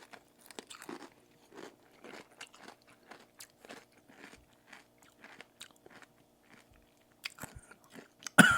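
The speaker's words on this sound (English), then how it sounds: "what we're going to do now is dip a Cool Ranch Dorito into the spicy nacho" Crisp, close crunches as a Cool Ranch Dorito dipped in spicy nacho dip is bitten and chewed, a run of sharp snaps followed by quieter chewing in an otherwise quiet room.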